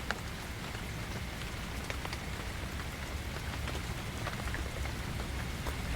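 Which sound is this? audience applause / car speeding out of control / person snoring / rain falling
rain falling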